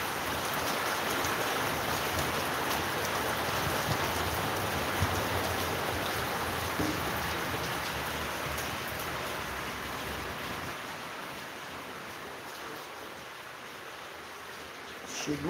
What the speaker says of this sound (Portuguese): A chuvinha chegou.